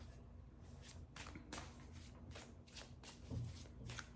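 Tarot cards being shuffled by hand, a soft repeated riffling and flicking in quick bursts, close and fairly quiet, with no talk over it.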